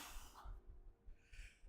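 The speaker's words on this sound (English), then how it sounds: "I'm gonna sneeze." Two quick sneezes in succession, close and fairly quiet, with sharp intakes of breath around them and no talking.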